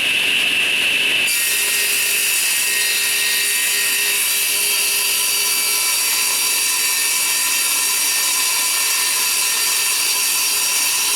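A power saw rips steadily through a 3/4 inch MDF board, cutting it into strips about an inch wide, with a loud, continuous high whine that holds evenly for the whole stretch and no talking.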